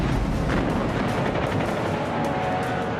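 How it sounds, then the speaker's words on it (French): Heavy naval gunfire from the Japanese battleship Yamato's 460 mm guns in a sea battle against American ships, a dense, continuous roar of booms and rumbling blasts without a break. "Le Yamato peut enfin faire usage de ses canons de 460 mm contre les navires américains"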